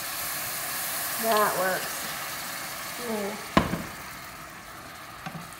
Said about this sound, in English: I want to deglaze the pan, and I'm going to put maybe half a cup of white wine in here.